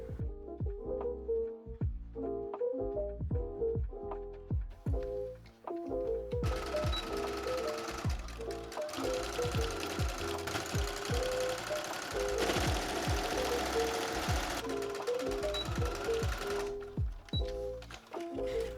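A sewing machine runs close up, stitching through layers of dress fabric in a steady rapid mechanical chatter, with short pauses and speed changes and a brighter whirring stretch in the middle.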